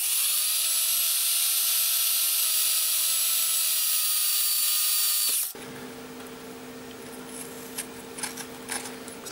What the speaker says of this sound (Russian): Для лучшей циркуляции воздуха сверлю несколько отверстий диаметром 3 мм.